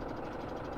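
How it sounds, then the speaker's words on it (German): A tractor engine in the Farming Simulator 17 game idles with a steady, dense mechanical rumble and knocking throb, continuous and fairly loud throughout with no talk. "Wir müssen hier unter anderem den Motor anmachen."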